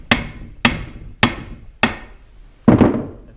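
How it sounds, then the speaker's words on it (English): A hammer taps the gear box cover off a Chelsea PTO on a 38-ton crane, landing five sharp, ringing metallic strikes about half a second apart, with the last blow heavier, close up and without talk. "we'll go ahead and take and tap it with a hammer just like the rest of them"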